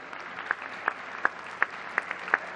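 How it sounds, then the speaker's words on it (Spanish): Sparse, scattered claps from a small audience at a Mexican film statistics yearbook presentation, about six distinct hand claps spaced irregularly over quiet room tone, fairly near and soft. "nos regalen un aplauso para ellas"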